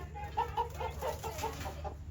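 A rooster clucks in a quick series of short, close calls over a low background hum.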